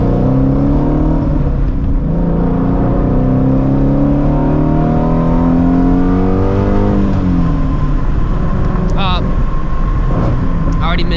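A 2016 Shelby GT350 engine revs and pulls hard as the car accelerates on a test drive, its pitch climbing and falling through gear changes with steady cabin rumble and wind noise, while people talk over it.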